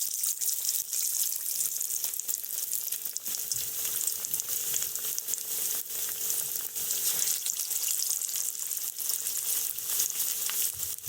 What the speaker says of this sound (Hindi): तो अब मैं इसे फ्राई करूँगी और इसे मैंने स्लो फ्लेम पर